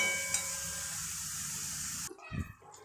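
Water lily (shapla) stems fry uncovered in a hot pan with fish, giving a steady soft hiss that cuts off after about two seconds, followed by a brief clatter.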